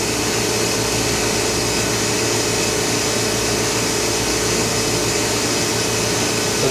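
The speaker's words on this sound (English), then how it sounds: "So the chamber is pumping down to base pressure." Vacuum pumps on an Oxford Plasmalab 133 ICP etch system pump the chamber down to base pressure, a loud, steady broadband whoosh and hum that holds constant throughout, close and unbroken, with no speech.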